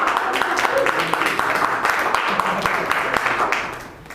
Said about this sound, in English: You'll see that we clap a lot in Toastmasters.